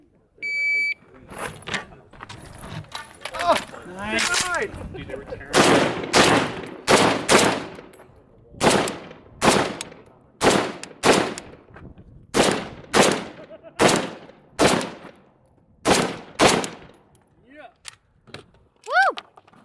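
AK rifle with iron sights fired on a timed shooting stage: about a dozen loud, close, sharp shots at a steady pace of roughly one per second, with brief handling noise before the first shot.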